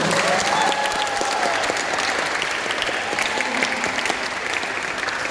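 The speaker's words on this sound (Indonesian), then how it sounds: "Kepada Bapak Saud Sitompul, kita berikan tepuk tangan yang meriah." A youth motivational seminar audience gives a guest speaker a lively round of applause, a steady, dense wash of clapping from a crowd, sustained and even throughout.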